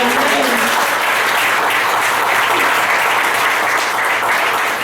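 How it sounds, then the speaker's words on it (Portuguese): An audience claps in a church during a worship service, a dense, even burst of applause held for several seconds at steady loudness, with a faint hum beneath it. "Você pode aplaudir ao Senhor."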